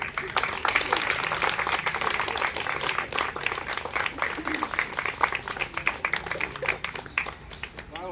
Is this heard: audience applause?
yes